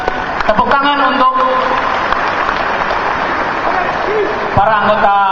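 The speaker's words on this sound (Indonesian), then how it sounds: "Ya, tepuk tangan." A crowd at a karate demonstration applauds in a loud, continuous wash of clapping while an announcer speaks over it through a sound system.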